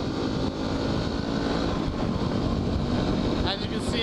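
A dirt bike engine drones steadily while riding, with heavy wind buffeting over the microphone and an ongoing rider's voice underneath.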